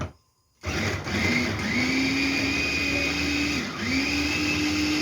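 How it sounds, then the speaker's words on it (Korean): A blender grinds ginger and garlic with about half a cup of water, a steady loud motor whine starting after a brief quiet moment, its pitch dipping once as the load shifts, with no talking. "생강이 씹히지 않게 조금 곱게 갈아주시면 돼요."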